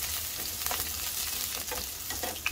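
Chopped onion and garlic frying in a pan, a steady close crackling sizzle with a few soft stirring touches and no voices.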